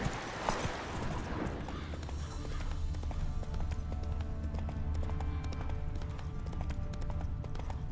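Roach the horse trotting in The Witcher 3, steady clip-clop hoofbeats carrying on through the clip over a low rumbling game backdrop.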